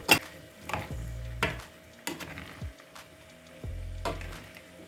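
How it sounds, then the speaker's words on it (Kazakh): Chopped potatoes and onions fry in a pan while a utensil stirs them, with several sharp scrapes and clatters over a steady low sizzle, close and moderately loud. "Енді бетіне әрлеп туралған картоплымызды және пиязымызды салып, араластырамыз және де қуыратын боламыз."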